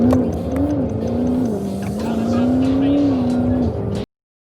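A Chevrolet Camaro 1SS engine hums loudly and steadily, its pitch wavering slightly as revs rise and fall, before cutting off abruptly.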